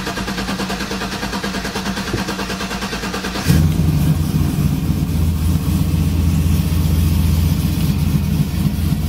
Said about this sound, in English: First start. Let's see what it sounds like.